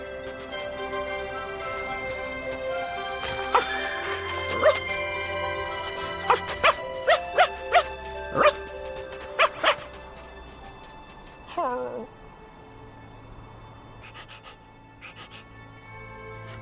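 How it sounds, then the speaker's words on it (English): A dog in an animated family adventure film gives a series of short, sharp barks and yips over a soft musical bed, then falls quiet after a brief whimpering sound. "Go home, silly dog."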